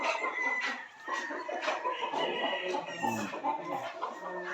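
Several chickens cluck and squawk continuously nearby, their overlapping calls forming a busy, uneven chatter.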